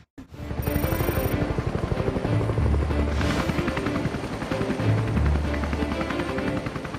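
A military helicopter hovers close by, its rotor beating in a fast, steady chop with a loud continuous turbine whine, sustained throughout at high volume.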